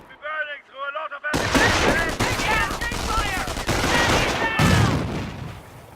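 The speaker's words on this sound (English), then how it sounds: "Let's throw a grenade to destroy the machine gun team." Heavy machine gun fire and explosions in a WWII battle game set on the Normandy beaches, a loud dense fusillade of rapid shots close by, with speech early on.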